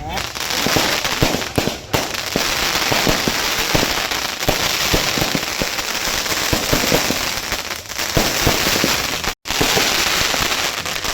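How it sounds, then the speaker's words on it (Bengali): Wedding fireworks and firecrackers burst in dense, continuous crackling volleys close by, a loud rapid popping that barely pauses; voices speak beneath the noise. "আর বর আসা বাজি পোড়ানো শুরু হয়ে গেছে"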